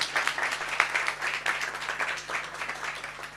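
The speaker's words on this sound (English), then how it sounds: "Let's clap for this group." Audience at a Father's Day event clapping for a group of mentees, a moderate, fairly distant patter of many hands, steady over a faint background hum.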